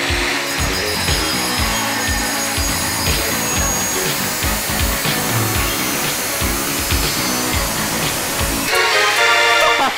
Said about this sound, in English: I'm eager to test out my big boy grinder